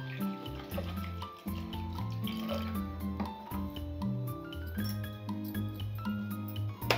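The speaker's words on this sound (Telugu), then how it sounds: "ఇప్పుడు మనం నీళ్ళు పోయాలి, ఎందుకంటే పులుసు ఉంటుంది, పుల్లగా ఉంటుంది." Water poured over rasgulla cheese balls, with steady dripping and trickling splashes running continuously over background music.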